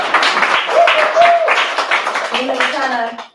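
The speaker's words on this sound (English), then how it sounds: "And let's give Nina another round of applause." Audience at a public health graduation ceremony claps steadily throughout, close and fairly loud, while a voice speaks and cheers rise over the applause.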